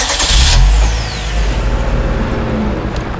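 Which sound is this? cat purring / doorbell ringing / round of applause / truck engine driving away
truck engine driving away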